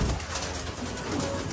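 Pigeons coo close by, with wing flutter and rustling as the startled flock lifts off, a dense, fairly loud burst of bird sound throughout.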